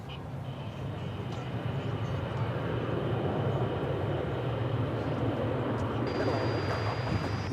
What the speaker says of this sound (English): You just saw American Flight 2971 arriving from Los Angeles with an Airbus A321 Neo.